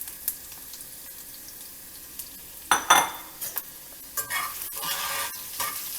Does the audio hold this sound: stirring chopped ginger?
yes